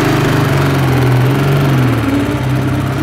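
A rare Edelweiss 250cc motorcycle engine runs while riding in first gear, a loud, close, buzzing drone that holds steady with slight rises and dips in pitch.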